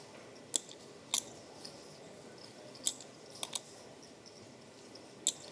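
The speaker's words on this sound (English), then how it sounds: "He creates his own metronome, though, with the shuffling of the chips." Poker chips are shuffled by a player at a World Series of Poker Main Event table, giving faint, sharp clicks spaced irregularly across an otherwise quiet stretch.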